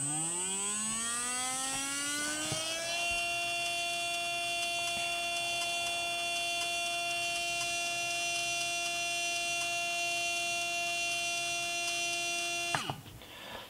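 A brushed RC car electric motor on a test bench spins up with a rising whine, then holds a steady high-pitched electric hum before cutting off abruptly near the end.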